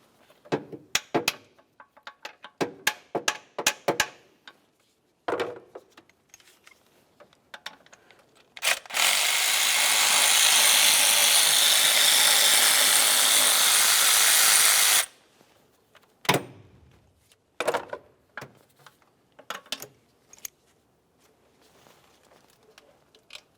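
A power tool spins off a bolt on a 2004–2015 Nissan Titan during starter replacement, one loud continuous burst lasting about six seconds, framed by scattered clanks, taps and handling of tools and parts, close up.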